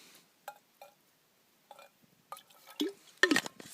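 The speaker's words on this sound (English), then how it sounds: "Pour just a little bit of water in there." Water splashes into a greasy cooking pot at a campfire dinner cleanup, preceded by a few small drips and clinks, then a short, close pour at the end.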